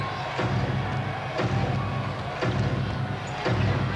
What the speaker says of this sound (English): Crowd trying to get the Sonics going.